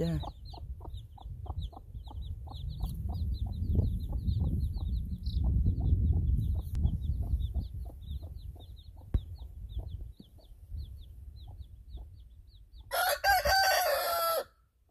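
Chickens in a coop cluck in a rapid, rhythmic series of calls, fairly close. After a brief lull near the end, a rooster lets out one loud crow.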